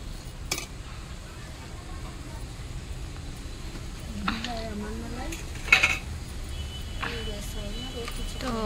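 Potato halwa being stirred in a pan at home, a spoon scraping and clinking against the metal in scattered strokes, with household talk and background noise throughout.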